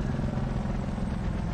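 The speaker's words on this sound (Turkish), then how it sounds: "Uçak yerine helikopter." Helicopter in the Call of Duty Black Ops 4 Blackout battle royale game, a steady close rotor and engine drone with dense low throbbing, loud and continuous with no talk.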